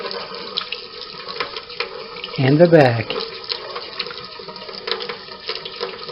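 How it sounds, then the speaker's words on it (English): A kitchen tap runs water into a sink at a preschool life-skills lesson where food is rinsed, giving a brief loud gush in the middle of the clip while someone talks over it. "we can turn the water off"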